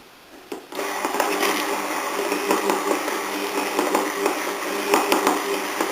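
An electric hand mixer whirs loudly at speed setting 3 while whipping aioli, starting up after a quiet moment and then running steadily with slight fluctuations as it moves through the mixture.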